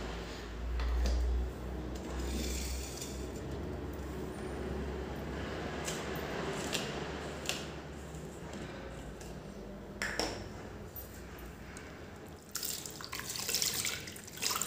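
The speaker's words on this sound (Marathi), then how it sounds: "हे थंड फ्रीजचं पाणी आहे याच्यात आपल्याला व्यवस्थित हे गोळे धुवून घ्यायचे" Balls of homemade butter washed by hand in cold water from the fridge, giving continuous soft splashing and sloshing with occasional drips and clinks, fairly quiet and without talk.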